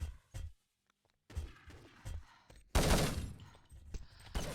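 Gunfire in the video game Urban Terror during a World Cup quarter-final match: scattered shots and a louder, busier exchange midway, fairly faint overall, with short gaps of near silence between bursts.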